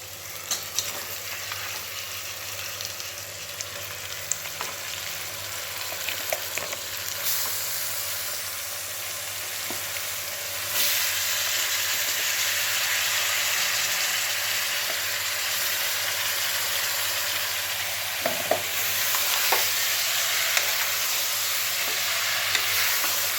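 Country chicken pieces sizzle and fry steadily in a pan of curry for a Tamil-style roasted-spice chicken gravy, with occasional stirring clinks and scrapes over a constant hissing bed, no talking.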